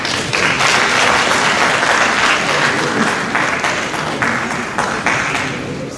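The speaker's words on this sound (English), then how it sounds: "Let's give now applause, please." Sustained crowd applause fills a graduation ceremony hall, loud and dense for about six seconds with steady clapping throughout, no voices standing out.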